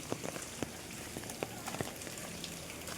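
Steady rain comes down in Alibag, an even wash of patter with occasional sharper drops striking a nearby surface, quiet and without voices.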